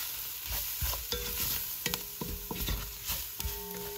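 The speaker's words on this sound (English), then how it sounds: "Give this a really good stir." Spices stirred into hot oil for shredded red chili chicken: a steady close sizzle broken by repeated scraping and clinking strokes of a spoon against the pan, alone with no voices.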